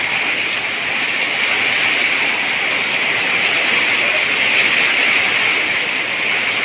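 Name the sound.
heavy rain falling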